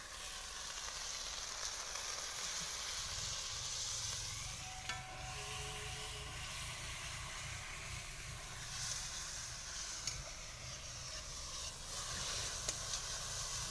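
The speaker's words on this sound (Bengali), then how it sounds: "এখন টমেটো বাটাটা দিয়ে দেবো।" Tomato paste hits hot fried spices in a pan for a rohu fish curry, producing a steady, fairly soft sizzle and hiss that continues evenly throughout with no talking.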